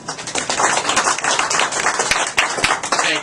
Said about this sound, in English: How about a great round of applause for Greg Dildilian?